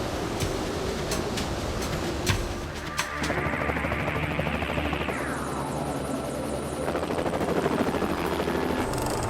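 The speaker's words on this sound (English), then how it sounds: "The next morning, ABC helicopter pilot Gary Ticehurst takes off from Merimbula and heads out to film the race leaders." A helicopter's engine whines up in pitch over a steady rotor roar, then settles into a loud, constant drone as it lifts off nearby from Merimbula, Australia.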